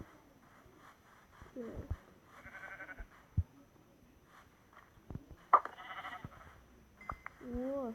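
Minecraft sheep bleat several times over a quiet background, with short clicks and a brief bleating burst near the end.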